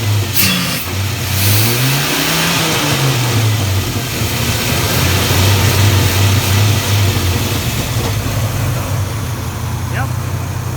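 A Dodge Ram truck's V10 engine runs close by, rising and falling through several revs over a steady rumbling idle, with a voice talking over it at times.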